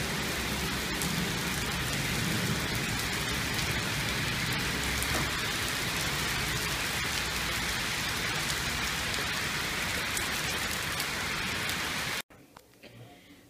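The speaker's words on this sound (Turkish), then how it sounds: "Gök gürültüsüne bak. Allah demek ki yağmurlar diye geldi." Steady heavy rain pours down on surfaces in a dense continuous hiss with a faint low rumble of thunder beneath, then cuts off abruptly near the end.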